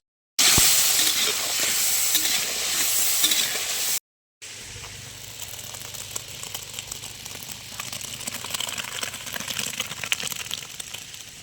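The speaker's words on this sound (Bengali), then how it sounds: "মাংসের জন্য আলু ভেজে নিচ্ছি।" Potatoes fry in hot oil for a village picnic meal, a loud bright sizzle that cuts out briefly, then returns as a softer crackling hiss with occasional stirring.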